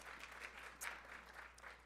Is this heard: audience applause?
yes